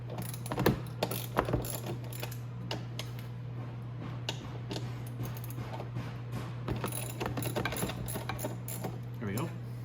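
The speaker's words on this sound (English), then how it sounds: "Right, so we'll pull off the bolts now." Ratchet undoing bolts on a Venom E-Grizzly 1500W electric ATV, steady close clicking of the pawl over a constant low hum, with a few harder metallic clanks near the start.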